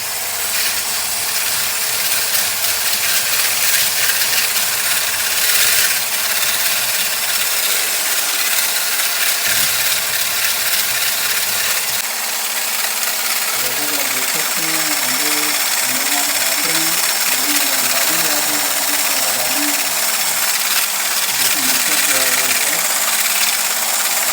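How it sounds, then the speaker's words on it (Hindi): An electric mixer whirs steadily throughout while beating sponge cake batter with sugar, a continuous mechanical drone with a voice talking over it. "और ये हमारे पास मशीन है जिससे हम इसको मिक्स कर लेंगे अच्छी तरह से।"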